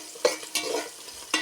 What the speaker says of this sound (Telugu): ఆనియన్స్ అనేవి గోల్డెన్ కలర్లో వచ్చేంత వరకు ఫ్రై చేయాలి